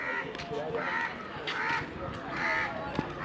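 Crows cawing repeatedly in an outdoor town area in Mahe, harsh calls recurring at a moderate distance under a person talking over them.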